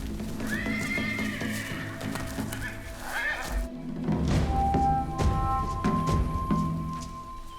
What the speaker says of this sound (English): The group is alerted given the bustle of neighs and broken bushes.